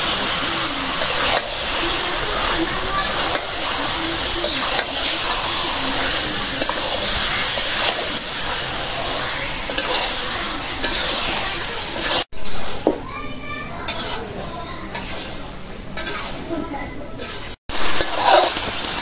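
Beef sizzling in a pan with spices while it is stirred, a broad steamy hiss and crackle with occasional scraping, close and fairly loud, broken by two brief cuts, and a voice talks at times.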